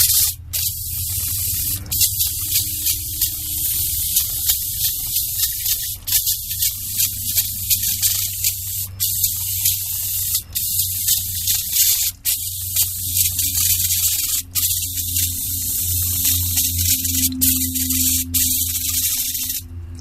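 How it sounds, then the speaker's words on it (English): Brake cleaner sprayed onto the greasy transfer case of a Suzuki Samurai, heard as a loud, close, continuous hissing spray broken by brief pauses, over a low hum. "Okay, some brake cleaner, and get"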